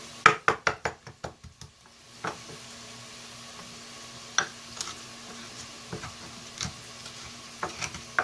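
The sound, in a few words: garlic being crushed in a mortar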